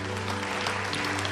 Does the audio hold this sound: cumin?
no